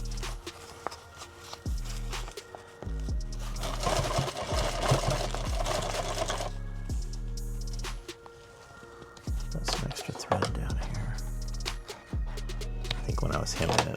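A sewing machine hems fabric for a subgun micro rig in bursts of rapid, close mechanical stitching, starting and stopping several times with quiet pauses between runs, and a person speaks at points.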